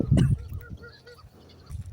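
A loud burst of honking duck calls up close, then quieter squawks, with another call rising at the end.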